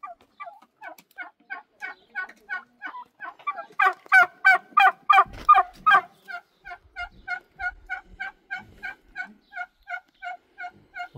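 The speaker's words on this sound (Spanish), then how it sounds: "Ahí están los guajolotes." A flock of turkeys on a Mexican farm gobbles in a long run of fast, rhythmic rattling calls, swelling into a loud, dense chorus midway before settling back to steady repeated gobbles.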